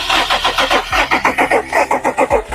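A Dodge Avenger's starter cranks in a loud, fast rhythmic chug for over two seconds, close by, with the engine not yet catching.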